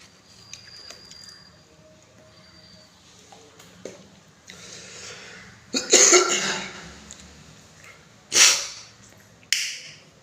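Someone coughing close by: several harsh, separate coughs spaced a second or two apart, alone over a quiet background hum.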